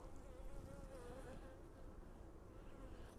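Honey bees buzz at an open hive during a beekeeping inspection, producing a soft, continuous, wavering drone that stays faint and distant, with no voices.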